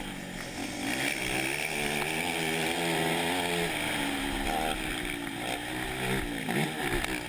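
A motocross dirt bike screams at full throttle during a national race, a loud buzzing engine note rising and falling through gear changes, with other bikes blending in the background.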